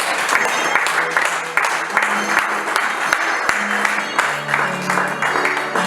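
A church congregation claps steadily and rhythmically, loud and close, mixed with sustained voices or music underneath.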